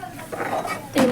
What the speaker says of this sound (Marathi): त्याच्यावर ढाकण ठेवू